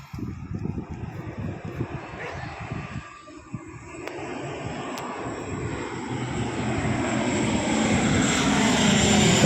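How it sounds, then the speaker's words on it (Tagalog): A propeller airplane passes low overhead near an airport during an outdoor burial, its engine drone growing steadily louder and closer across the clip with wind noise and no talk. "sa background may dumaang eroplano, malapit lang kasi ito sa airport."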